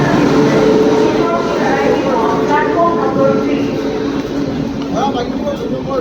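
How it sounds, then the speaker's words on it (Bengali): A train pulls into a station platform, a loud continuous rumble of the arriving carriages with crowd noise around and people talking throughout. "ট্রেন এসে গেছে"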